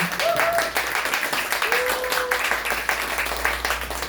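A seated audience at a cultural venue event claps for a presenter, with moderate, uneven applause and rhythmic pulses from individual hands throughout.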